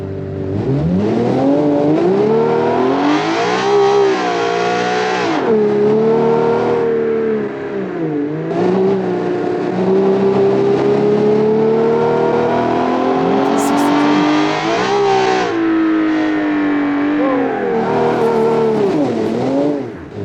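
A 1962 car fitted with a 400-horsepower engine revs hard and loud, its note climbing and dropping repeatedly in sustained surges across twenty seconds, with a brief dip in between and no one speaking.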